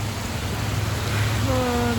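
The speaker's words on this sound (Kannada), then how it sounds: "ಎಷ್ಟು ಜೋರಾಗಿ ಮಳೆ ಬರ್ತಿದೆ ಅಂದರೆ ನೋಡಿ" Heavy rain pouring down outdoors, a dense, steady hiss close by with no let-up, joined near the end by a faint tonal hum.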